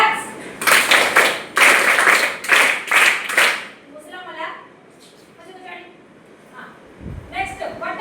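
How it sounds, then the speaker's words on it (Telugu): A classroom of students claps in several loud, rhythmic bursts of group applause, then the clapping stops and a teacher's voice carries on alone. "క్లాప్స్."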